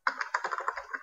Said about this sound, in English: So this is what we are typing in here